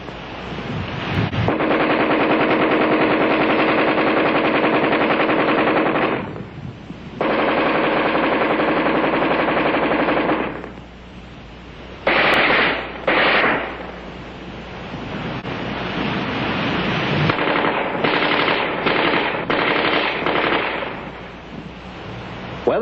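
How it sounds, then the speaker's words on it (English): Armalite AR-10 rifle fired offhand at a man-sized target at combat range, loud sustained bursts of gunfire separated by short pauses, with some single and rapid shots near the end. "offhand firing against a man-sized target at combat range, the AR-10 is in a class by itself."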